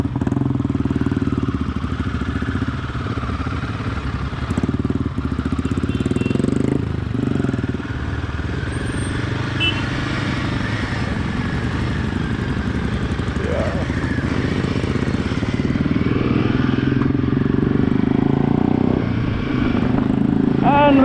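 A Royal Enfield Himalayan 450 motorcycle is ridden during a rally, its engine droning steadily and loudly for the whole stretch with a constant rumble and wind noise, and no pauses.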